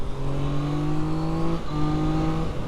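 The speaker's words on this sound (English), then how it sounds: "Now, I'm doing 70, and what's the acceleration to 100?" A car engine accelerating from 70 to 100 km/h on an Australian road, a loud steady droning engine note inside the cabin that dips briefly at a gear change partway through, with no talking.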